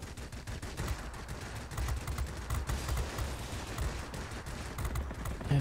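Rapid bursts of 20mm cannon fire from an MB 5 heavy fighter in the World of Warplanes game, dense and continuous over engine drone, with no talking.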